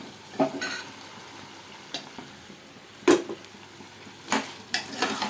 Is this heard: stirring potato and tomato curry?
yes